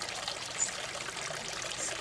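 Spring water trickles and splashes steadily at a waterfall, a close, continuous wash of running water without breaks.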